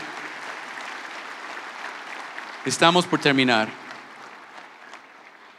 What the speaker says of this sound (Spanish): Vamos a dar un aplauso más al Señor.